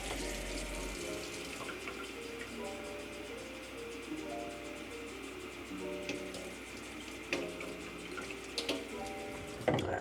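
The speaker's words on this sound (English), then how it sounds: "Because I'm using tap water" Tap water runs from a faucet into a container for a pre-workout shake, a steady soft stream with light splashing and a few clinks near the end.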